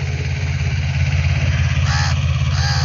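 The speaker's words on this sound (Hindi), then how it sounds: "हम आज लाए हैं अपना छोटा ट्रैक्टर जीवो 225 DI महिंद्रा का 4 व्हील ड्राइव जो है हमारे पास है, उसी से चरी बो रहे हैं भाइयों।" A Mahindra Jivo 225 DI 4WD small tractor runs in a field while sowing fodder, its engine a loud, steady low chugging throb close by, with no speech over it.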